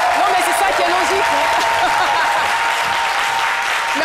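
Studio audience on a French midday television show applauding, with loud continuous dense clapping and a voice speaking over it throughout.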